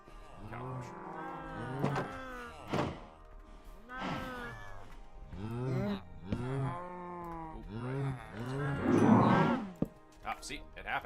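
Minecraft cows moo repeatedly inside a game, a string of drawn-out, bellowing calls one after another at fairly close range, with a faint bump or clunk near the end.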